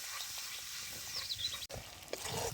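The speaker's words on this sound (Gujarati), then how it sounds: "ડુંગળીની પેસ્ટ ડુંગળી બરોબર આપણે તેલમાં પાકવા દઈશું" Steady hiss and sizzle of onion paste frying in hot oil, close and continuous, with occasional stirring scrapes and a brief dip midway.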